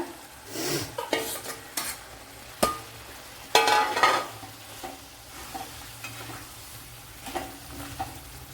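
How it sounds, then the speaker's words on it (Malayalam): Eggs go into a pan of sizzling tomato masala for an egg roast. A spoon scrapes and stirs in irregular strokes with a few sharp clinks against the pan, over a faint, steady frying hiss. "ഇവിടെ മസാലയൊക്കെ നല്ലപോലെ വയണ്ട് വന്നിട്ടുണ്ട് അതുപോലെ തക്കാളി നല്ലപോലെ വെന്തുടഞ്ഞിട്ടുണ്ട് അതിലേക്ക് മുട്ട ഇട്ട് കൊടുക്കുക"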